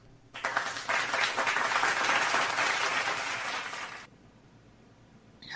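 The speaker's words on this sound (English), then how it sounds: "I think that applause was for all of us." A studio audience breaks into applause for a sports talk show crew, a dense burst of clapping that swells quickly, holds for a few seconds and then cuts off abruptly.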